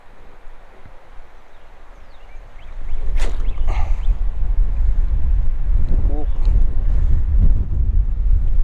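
Wind blusters across a clear river during a crappie fishing outing, a low roaring rumble on the microphone that jumps from moderate to loud and steady halfway through, with a few faint higher tones above it.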